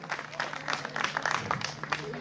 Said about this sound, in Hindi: एक बार जोरदार तालियां भाभी के लिए